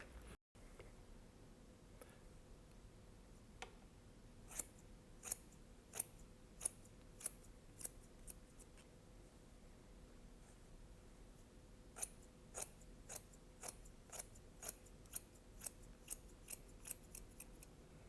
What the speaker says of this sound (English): do I cut with the scissor really touching the comb, or I cut a little bit distant from the comb?